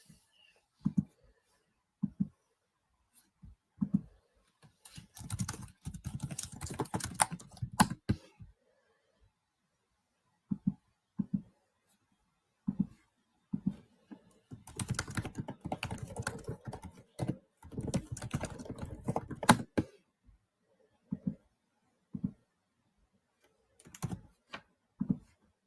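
Typing on a computer keyboard, close and quiet, with scattered single key taps and several denser bursts of rapid clicking separated by pauses, no talking.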